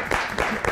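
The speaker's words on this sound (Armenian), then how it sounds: "Եկեք դիմավորենք նրան շատ բարձր ծափահարություններով" A studio audience at a television talk show claps in a brief, steady burst of dense applause, with a faint voice underneath.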